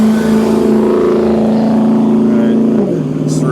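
A car engine following closely behind an EV Global electric bike on a road: a loud, steady droning hum that holds its pitch, then drops lower near the end.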